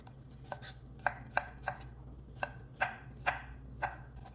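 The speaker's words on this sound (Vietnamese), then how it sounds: "Tỏi thì mình xắt nhỏ nhỏ ra để chút xíu nữa mình làm vô trong cái nước mắm đó." Garlic being finely chopped with a knife on a cutting board for a Vietnamese dipping sauce, crisp close knocks in an irregular rhythm, about a dozen strikes with short pauses between them.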